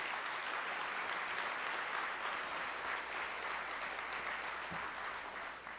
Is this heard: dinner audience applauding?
yes